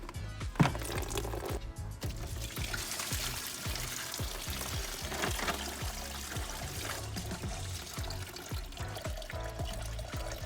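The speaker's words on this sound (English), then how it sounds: "once you take this hose clamp off, coolant's just gonna start pouring out of here" Engine coolant pours steadily from a car's lower radiator hose once the hose clamp is removed, a continuous close splashing trickle that runs unbroken throughout with no talk.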